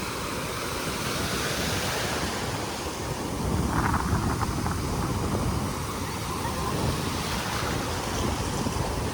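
Continuous roar of large ocean surf with a louder wave crashing midway, broad rushing water noise and wind, no voices.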